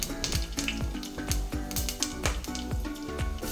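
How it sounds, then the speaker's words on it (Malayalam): Fennel seeds, five cloves, four cardamom pods and a piece of cinnamon frying in hot coconut oil in a kadai for chicken varattiyathu, with a loud, steady close sizzle and repeated spatula scrapes against the pan. "വെളിച്ചെണ്ണ ഒന്ന് ചൂടായി വരുമ്പോൾ അതിലേക്ക് 1 ടീസ്പൂൺ പെരിഞ്ചീരകം, ഗ്രാമ്പു 5 എണ്ണം, ഏലക്ക ഒരു 4 എണ്ണം, ഒരു പട്ടയും കൂടിയും ചേർത്ത് കൊടുക്കാം"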